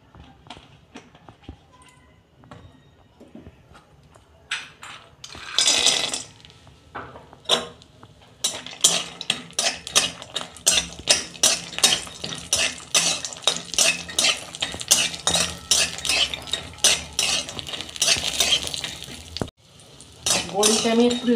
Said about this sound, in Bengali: আমি বড়িটা ভেজে নেব।